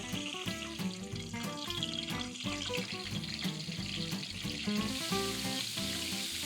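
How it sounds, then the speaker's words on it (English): Flour-dredged Greek meatballs (keftedes) fry in olive oil in a pan, a soft continuous sizzle with faint bubbling crackle beneath music playing throughout. "I'm frying up my Keftedes. And what we want on the Keftedes is a really nice, deep brown color. I'm frying in Greek olive oil."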